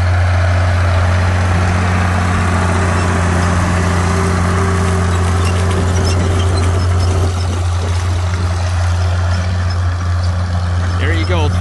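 International Harvester 560 tractor, 63 horsepower, pulling a three-bottom plow at a plow day, its engine giving a loud, steady low drone up close while people talk over it.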